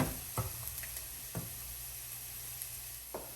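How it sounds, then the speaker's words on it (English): Steady sizzling in a hot pan as ingredients sauté before minced beef goes in for a cannelloni filling, a constant hiss with a few soft clicks and stirs, no voices. "I'm just gonna allow this to saute for about a minute before I add my beef."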